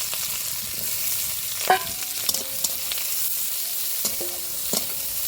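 Dry chilli, cumin, five-spice seeds and raw onion tempering in hot oil produce a steady, moderate sizzle with a few scattered spatula clinks and scrapes.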